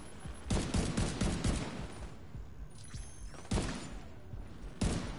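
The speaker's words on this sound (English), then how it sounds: "What is shooting me now?" Gunfire in The Division 2, with short bursts of automatic fire coming in several clusters over a few seconds. The shots are sharp and fairly loud, with quieter gaps between the volleys.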